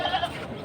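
A goat bleats at a livestock market in Padre Garcia, Batangas, a short, wavering cry heard close by over low crowd noise.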